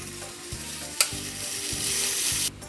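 Crepe batter sizzles steadily on a hot electric crepe maker's pan, a loud, close frying hiss that builds and then cuts off abruptly, with faint mechanical thumps underneath.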